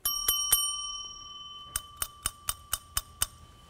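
Two metal bells are struck one after another in a LizardSkin sound control product demonstration: a few bright, ringing strikes, then a quick run of seven sharper, more damped dings.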